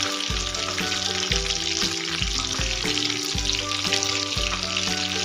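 Chicken cheese kababs fry in a pan with a steady, loud sizzle that runs unbroken throughout, under soft background music.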